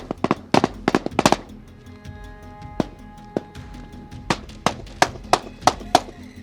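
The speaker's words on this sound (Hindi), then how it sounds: "अगर आप देखें तो आरपीजी फायर किया जा रहा है यहाँ से" Gunfire and RPG fire during a battle between the Afghan Army and the Taliban, heard as loud, sharp cracks, some in quick clusters and others spaced apart, echoing over a quieter background.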